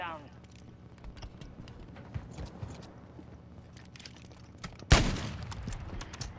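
Gunfire in a shooter video game, light scattered shots and clicks under game noise, then one loud, sharp blast near the end with a decaying tail.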